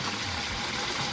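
Turkey broth pours through a colander in a steady, close watery rush that runs unbroken for about a second, with no talk.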